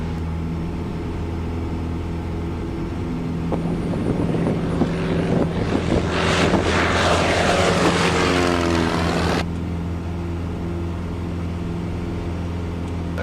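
A propeller airplane's engine drones steadily, then swells to a louder, rougher roar for several seconds as power comes up during a go-around before settling back, heard from inside the cockpit with no talking.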